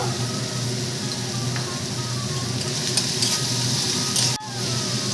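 Onions sizzle and crackle steadily as they fry in a pan, a close, continuous hiss with occasional stirring and one short break near the end.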